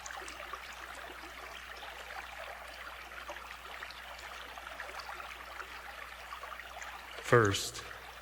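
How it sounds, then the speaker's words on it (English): Steady water flowing and trickling, a soft continuous wash that holds at an even level, with a brief louder splash or pour near the end. "First, it is only water sound."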